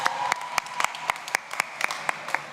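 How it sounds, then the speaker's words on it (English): Sparse audience clapping at a university welcome-week community service conference, a handful of hands giving irregular sharp claps over a few seconds, close and moderate in level. "35, round of applause."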